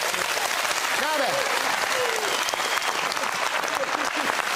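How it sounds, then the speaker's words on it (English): Studio audience applause at a televised national quiz results show, loud and steady across the whole stretch, with a few voices faintly mixed in beneath the clapping. "Give yourself a round of applause."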